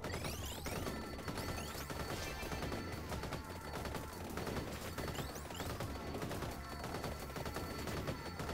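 Claw barrage attack in the Vampire Survivors video game, a dense continuous barrage of rapid-fire impact hits and crackling bursts that holds loud and steady throughout, with no talk over it.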